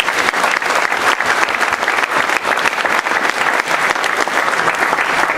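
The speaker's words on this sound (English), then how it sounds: "One more round of applause for each and every one of you." An audience at a quarterback club event honouring New Orleans high school football players gives a round of applause, loud, dense, continuous clapping close by that fills the whole stretch.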